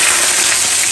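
Organic chicken breasts sizzle loudly in hot olive oil in a pan, a dense, continuous frying hiss heard up close with no talking.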